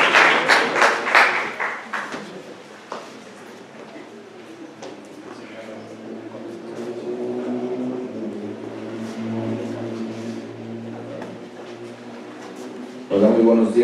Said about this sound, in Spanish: Démosle un fuerte aplauso a nuestro profesor